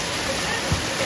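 Steady rushing glacier meltwater pours continuously down on the Kedarnath trek, a brief murmur of voice just audible beneath it.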